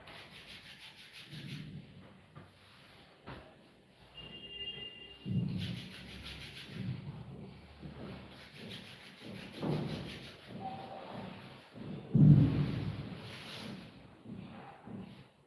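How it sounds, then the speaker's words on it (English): Palms rub together during a yoga class in repeated soft, dry swishes that come in bursts, quiet and close, with faint background rustle between strokes. "You can rub your hands again and again."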